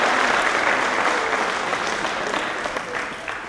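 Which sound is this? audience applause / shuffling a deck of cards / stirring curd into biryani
audience applause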